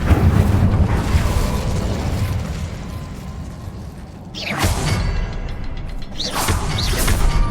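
An Incendio fire spell in Hogwarts Legacy erupts as a dense, roaring burst of flame and rumbling mechanical noise, loud and close, dipping briefly before a second fiery swell with sharp crackles.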